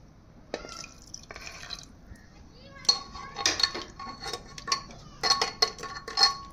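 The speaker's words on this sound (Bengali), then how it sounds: "প্লেটটা ধুয়ে একটু জল দিয়ে দেবো।" A plate being rinsed and water added in a kitchen while steaming hilsa fish, with sharp clinks of crockery and dripping, splashing water in irregular bursts, close and fairly quiet.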